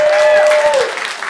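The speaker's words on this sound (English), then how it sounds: "Let's give a round of applause" Audience applause for a law enforcement officer at a science communication event, a short burst of clapping with a brief overlapping voice that fades toward the end.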